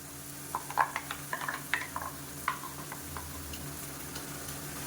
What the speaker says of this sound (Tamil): இதை நல்லா வதக்கி விட்டுக்கலாம் எண்ணெயில் மீடியமான ஃப்ளேமில் வதங்கட்டும்